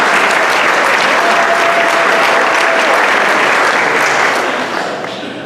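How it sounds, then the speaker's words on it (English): Audience at a high school staff banquet breaking into loud, dense applause that holds steady, then fades toward the end. "Round of applause for Jenny, right?"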